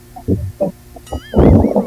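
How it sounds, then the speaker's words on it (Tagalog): A noisy electric fan hums steadily in a room, with a low drone running underneath several short, uneven thumping bursts and a louder rush of noise near the end. "Maingay po yung electric fan."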